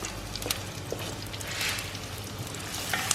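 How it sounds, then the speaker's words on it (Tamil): Chopped onion, ginger, garlic and green chillies fry in hot oil for a squid masala, giving a soft, steady sizzle with a few faint crackles and no talking. "ஆயில் ஹீட் ஆனோடனே வெங்காயம், இஞ்சி, பூண்டு, பச்சை மிளகா இவ்வளோத்தையும் போட்டுடலாம்."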